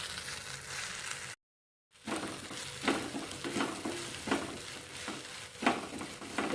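Spices, coriander and other ingredients are sautéed in hot oil in a pan for a dal tadka tempering, giving a steady close sizzle broken by a brief gap, with repeated soft scrapes of stirring.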